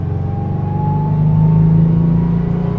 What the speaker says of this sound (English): this exhaust is a little loud,